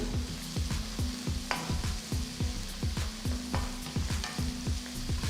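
A spoon scrapes rhythmically through a pan of curry as turmeric, Kashmiri chili, coriander and cumin powders are mixed in, dozens of quick regular strokes over a constant soft sizzle, close and unaccompanied.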